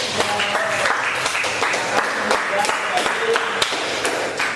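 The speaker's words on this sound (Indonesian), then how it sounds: "Oke, tepuk tangan dulu." A class of students claps together in a classroom, a brisk, fairly close patter of many hands with some individual sharp claps standing out, and light talk underneath.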